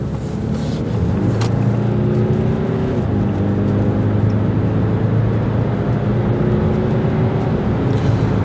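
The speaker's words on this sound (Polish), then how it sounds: "Teraz zrobimy kickdown na normalnym drive." Peugeot 5008 2.0 BlueHDI 180 diesel accelerating hard on kickdown in normal drive mode, a loud steady engine drone rising in pitch with a brief gearshift dip around three seconds, heard from inside the car with no talking.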